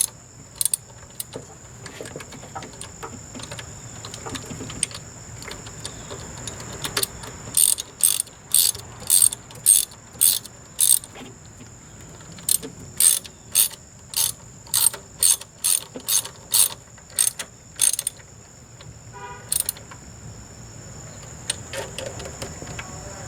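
A hand ratchet snugging bolts on an air bypass valve of a 1991 Ford F-150, giving bursts of quick, sharp clicking strokes in a steady rhythm, close and fairly quiet, with pauses between runs.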